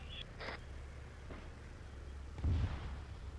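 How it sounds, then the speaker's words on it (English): Explosions go off in a combat zone as a few muffled, distant booms and bursts. A short one comes early and a heavier thud follows later over a quiet background. "Go back to where the explosion's happening."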